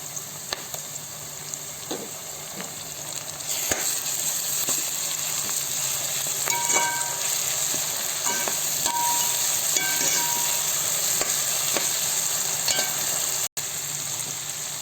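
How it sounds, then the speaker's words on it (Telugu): Ginger garlic paste fries in a pot for white kushka, giving a continuous bright sizzling hiss that swells louder partway through and keeps a dense, even crackle near at hand. "ఇప్పుడు అల్లం వెల్లుల్లి పేస్ట్ రెండు స్పూన్లు వేసుకోవాలి"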